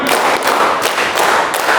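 A group of adults in a maths-teaching session claps together in a counting clap game, producing a few sharp, loud bursts of hand claps spaced unevenly across a short stretch.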